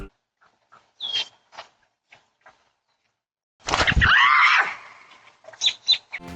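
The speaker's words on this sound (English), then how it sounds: "Her startled scream said it all." A woman lets out a loud, startled scream as a robin nesting above a floodlight camera swoops at her, a sharp burst in the middle of an otherwise quiet outdoor scene with a few faint knocks before and after.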